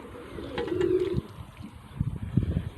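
Pigeons coo in a low, throaty burble that rises for about a second, then softer cooing and fluttering bursts follow close by outdoors, with no one speaking.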